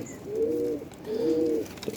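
Domestic pigeons cooing nearby, two soft low rolling coos in quick succession in a quiet setting.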